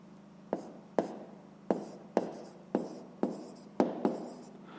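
Pen or pencil strokes on paper while working a 5th-grade math exercise, seven or so close, sharp scratching bursts in a steady rhythm, each fading quickly, with a low hum underneath and no talking.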